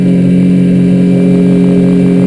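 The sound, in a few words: 2003 Alumaweld 15' Stryker boat engine running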